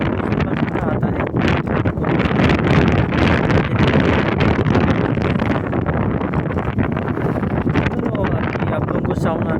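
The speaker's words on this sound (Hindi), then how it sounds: "बहुत तेज़ हवा चल रही है।" Strong wind buffets the microphone of a rider cycling outdoors, a loud, continuous rumbling roar with gusty rustle that fills the whole stretch without letup.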